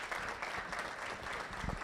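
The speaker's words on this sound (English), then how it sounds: "How about another round of applause?" Audience applause at a chamber of commerce member meeting, a brief steady patter of clapping hands, fairly close and moderately loud with no clear voices over it.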